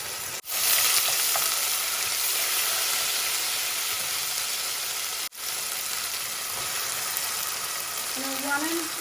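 Ginger and garlic paste frying in a little cooking oil, a steady loud sizzle and hiss that runs throughout, with two brief dips and a faint squeak near the end.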